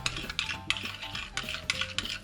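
A spoon stirs tzatziki with salt, black pepper and olive oil in a bowl, giving close, repeated clinks and wet scrapes in an irregular rhythm with no voices.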